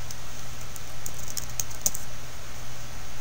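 Fingers tap on a computer keyboard in a light, irregular patter of quiet clicks, close against a steady low room hum, no voices.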